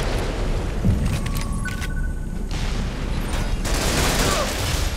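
Gunfire crackles and thuds continuously in a video game match on the Tomsk-9 map, with a dense, loud wash of shots and blasts filling the whole stretch.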